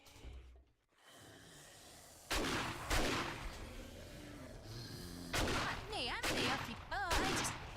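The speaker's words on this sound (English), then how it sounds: "This shotgun just wrecks everything." Shotgun blasts in the video game 7 Days to Die: several loud, sharp bursts spaced a second or two apart, separated by quieter stretches of background game noise, with a few brief warbling effects near the end.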